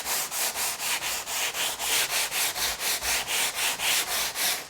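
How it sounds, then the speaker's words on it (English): Rhythmic back-and-forth strokes of 180-grit sandpaper rasp across old timber window trim, about four strokes per second, close and loud with no other sounds. "this is after sanding with 180 grit sandpaper"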